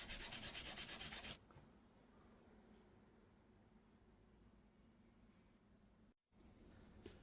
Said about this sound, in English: With some 1000 grit sandpaper, we want to create some highlights.